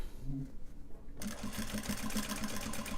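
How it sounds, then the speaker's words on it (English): A sewing machine top-stitching Japanese fabric for a cell phone purse: a short pause, then a fast, steady mechanical whirring run close up, with faint voices in the background. "we will only do one thing of top stitching when we sew it together right now"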